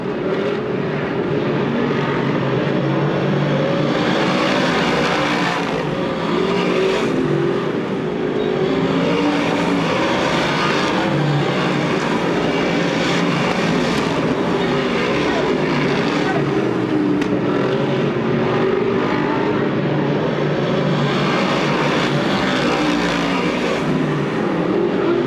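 Modified race cars roaring around Grandview Speedway on opening night, a continuous loud, dense engine drone with swelling and fading passes, mixed with crowd and track noise throughout.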